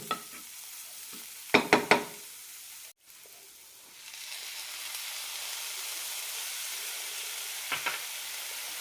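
Ground coconut stirred into roasted spice powders for horse gram curry, with a few sharp utensil clatters early, a brief dropout, then a soft steady sizzle and hiss and one more faint scrape near the end.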